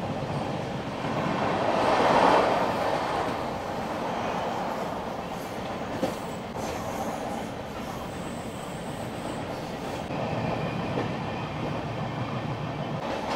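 Heard from on board a slow local train near Jhargram, the carriage rumbles and rattles steadily, with wheel-on-rail clatter swelling and easing and a faint metallic squeal, and no one speaking.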